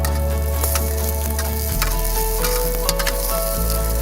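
Shishito peppers and rainbow carrots cook in a hot pan with a loud, steady sizzle, occasional stirring clatter and a constant low hum underneath, close and without talk.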